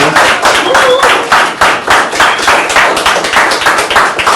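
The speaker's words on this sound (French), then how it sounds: "je crois qu'on peut les applaudir encore et vous applaudir" An audience at a live French event applauds, a dense, sustained wash of many hands clapping close by, steady and loud throughout with no voices breaking through.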